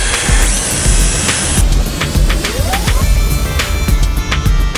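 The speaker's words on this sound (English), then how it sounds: "we just finished on this side, the 3M test side, with the 800 grit disc" A headlight lens is power sanded with an 800 grit disc on a 3M DIY restoration kit test side, smoothing out 500 grit scratches. A steady, close, broadband whirring grind runs throughout, with a high whine over the first second and a half.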